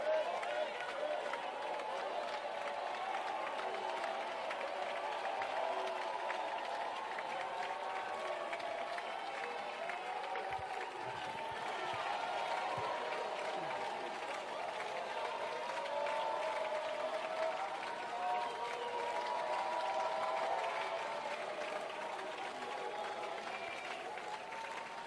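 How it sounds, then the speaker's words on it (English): Members at a joint parliamentary sitting in a large dome hall applauding as a speaker takes the podium, a long, distant, steady wash of clapping and crowd murmur with voices mixed in, holding at a fairly even level throughout. "Thank you for the applause."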